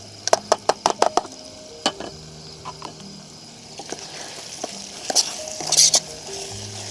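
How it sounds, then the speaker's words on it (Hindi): Dry spices (salt, turmeric, coriander, chicken masala) and garlic fry in a pan over a campsite fire. Quick sharp scrapes and taps of stirring break over a soft, close sizzle. "ताकि मसाला भी हमारा थोड़ा सा फ्राई हो जाए"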